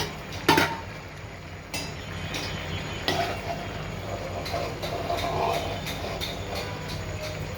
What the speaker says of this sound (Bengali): চুলায় মাছটা বসিয়ে দিচ্ছি, ঢাকনা দিয়ে ঢেকে দিচ্ছি